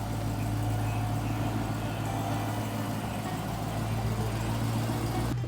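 A Dodge Demon 170 engine running at a steady, deep idle just after startup, a continuous low rumble with no talking.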